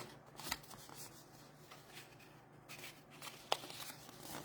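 Cardstock is folded in and out for a fun-fold Grassy Grove card, soft paper rustles and creases close by with a couple of sharper crisp snaps, quiet and without speech.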